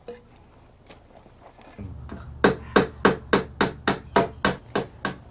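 Hammer driving nails into the mitered corner of wooden patio forms outdoors, about a dozen sharp, loud, evenly spaced strikes in a steady rhythm after a quieter stretch of light taps and low background hum.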